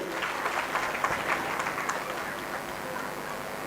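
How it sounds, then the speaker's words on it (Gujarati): An audience at a Gujarati folk-literature stage program applauds to welcome a revered saint, Dhansukhnath Bapu, with dense, moderately loud clapping that stays steady and then slowly thins out. "બાપુને આપણે તાળીઓથી આપણે વધારીએ"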